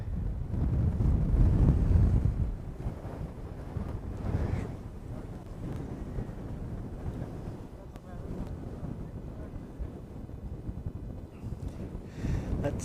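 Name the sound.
strong gale wind at an airport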